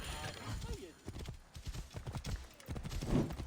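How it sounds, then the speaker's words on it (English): Horse hooves clip-clop rapidly in a race in the video game Assassin's Creed Origins, a steady galloping rhythm with a brief whinny, mixed under someone talking. "Oh, you're gonna give me a shit horse for this race?"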